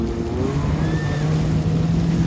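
Motorboat engine running at sea off Shivrajpur Beach, with a steady low hum close by, faint waves and wind behind it, and voices faintly audible.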